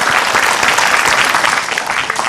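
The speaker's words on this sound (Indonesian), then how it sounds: "Boleh tepuk tangan buat Tiffany dan kedua narasumber kita" Audience applause for Tiffany and two guest speakers at an Indonesian talk event, a loud, continuous burst of clapping from a room full of people.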